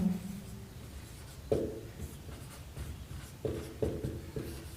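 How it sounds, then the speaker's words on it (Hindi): Chalk or a marker scratches out a maths solution on a classroom board, with several distinct taps and strokes spaced unevenly, moderately close and heard alone without speech. "यहाँ पे लिखेंगे हल, और यहाँ पे लिख देंगे दिया है"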